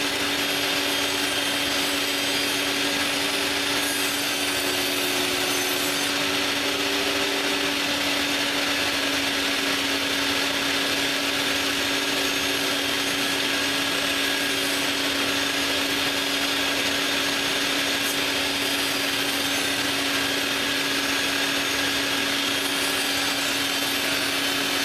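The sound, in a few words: table saw cutting wood pieces to final dimensions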